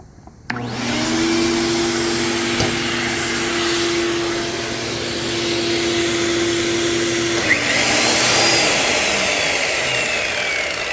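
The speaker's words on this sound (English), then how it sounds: "Can she handle the circular saw and the vac at the same time?" A circular saw and a shop vacuum run together off a Pecron E1500 Pro portable power station, starting abruptly and roaring loud and steady, with a tonal whine that drops out near the end as the load cuts.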